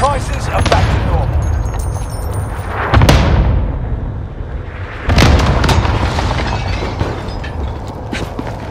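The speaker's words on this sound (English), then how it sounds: "Enemy cluster strike." Cluster strike explosions in Warzone on Rebirth Island: loud, heavy booms hit in quick succession, with sharp blasts near 3 and 5 seconds over a continuous rumble, while in-game voice announcements play through.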